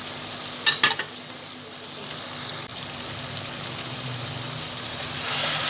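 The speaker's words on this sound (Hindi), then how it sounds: "अब हम इसमें टमाटर ऐड करेंगे और हरी मिर्च ऐड करेंगे।" Tomatoes and green chillies hit a hot pan of dhaba-style mutton masala, giving a steady close sizzle with a brief clatter of stirring early on and a slight swell in frying near the end; no one speaks.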